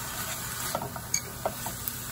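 Chopped vegetables with green pepper (capsicum) and salt cook in a pan, giving a low steady sizzle with a few soft stirring scrapes and light clinks, close and quiet.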